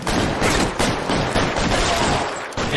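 Rapid gunfire in the L.A. Noire video game: a dense, loud, continuous burst of shots that fills the whole stretch.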